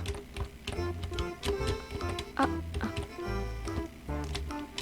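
Computer keyboard arrow keys are tapped in quick irregular bursts of soft clicks during a simple coding-made game, with faint electronic game tones in the background.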